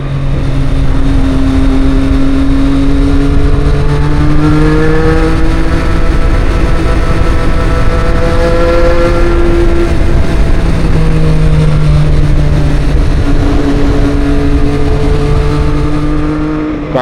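A Triumph Street Triple 765 RS motorcycle drones loudly up close while riding, its engine pitch rising and falling through gear changes over a steady roar of wind.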